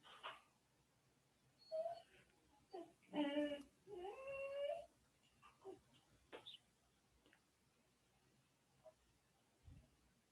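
Indoors, a dog gives a series of soft whimpers and short yelping barks in scattered bursts, moderately close but quiet, with pauses of near silence between them.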